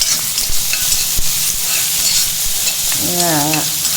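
Green coriander seeds roasting in a pan for chutney, a loud close dry sizzle with repeated scraping stirs and sharp clicks, and a brief voice-like tonal sound near the end.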